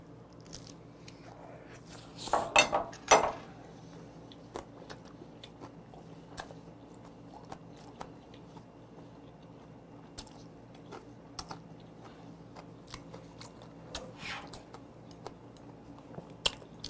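Soft wet chewing and biting of a mouthful of raw croaker sashimi, with a few louder crunchy bites early on and then faint, sparse mouth sounds in an otherwise quiet room.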